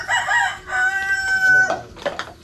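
A Rhode Island Red rooster crows loudly and close by on a farm, a long drawn-out call followed by a few short clucking notes.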